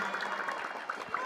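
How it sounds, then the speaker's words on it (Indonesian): A quick burst of hand clapping used to rouse a hypnotized person on a television comedy stage, brisk and fairly loud, with audience murmur mixed in. "Jika tepuk tangan lebih keras,"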